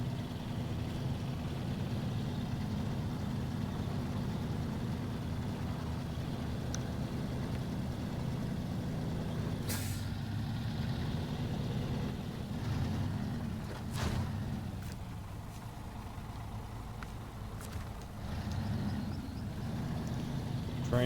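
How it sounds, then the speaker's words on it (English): A truck engine in the SnowRunner video game drones steadily at low pitch while hauling out of mud, a continuous rumble with a few clunks and scrapes over about twenty seconds. "When I pull that truck out of the mud"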